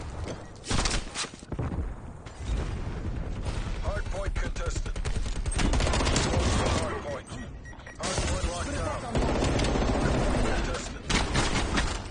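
A frag grenade blast in Call of Duty: Cold War during a hardpoint match, heard among loud, dense bursts of gunfire and other combat noise, with voices speaking throughout.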